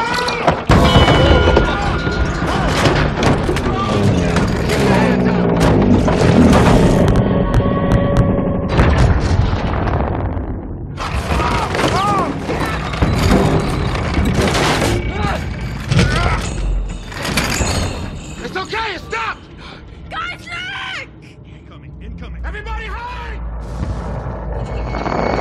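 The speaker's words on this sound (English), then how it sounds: "The building is going over!" A building collapses amid explosions in a Transformers: Dark of the Moon action scene, with loud crashing booms, grinding metal and debris mixed with shouting voices and dense score, easing then surging again near the end.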